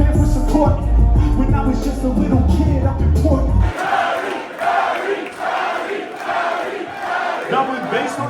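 Packed crowd in a small Dublin concert room at a show, first a booming bass-heavy musical stretch with crowd noise, then loud excited cheering and shouting in rising waves.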